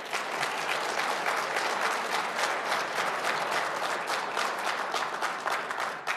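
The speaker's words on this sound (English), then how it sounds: "You should give yourselves a round of applause for such an accomplishment." Dense, sustained applause from an audience at an annual legal services benefit event, many hands clapping evenly for several seconds with no talking over it.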